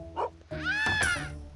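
A cartoon dog barks in the Robbery Bob 2 stealth video game, a short yip followed by a longer whining bark, close and fairly quiet with no talk.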